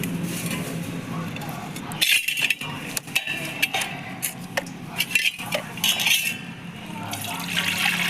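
Water from boiled tripe pours and splashes out of a pot in a steady stream, with occasional clinks of metal against metal.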